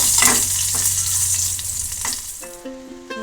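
Curry leaves and dried red chillies fry in hot oil for a pumpkin theeyal, giving a loud, close, continuous sizzle and spatter that thins out toward the end.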